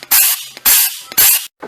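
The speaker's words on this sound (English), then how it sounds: "you can spray a little air in here" Short bursts of compressed air sprayed into the carburetor of a 1987 Honda V45 Magna 700cc during a rebuild: three loud hissing blasts, each about a third to half a second long, close up, with a faint sound after the last.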